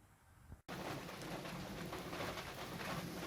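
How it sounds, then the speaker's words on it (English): Heavy rain pours outside a shed, a dense, steady hiss of drops on the roof and ground that starts abruptly and continues unbroken at close range, with no talking. "I'm currently trapped inside my shed by a severe rain depression"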